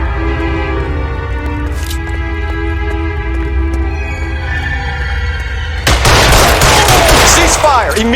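Gunfire in LA Noire comes as scattered shots over a steady hum, then a loud burst of rapid fire near the end.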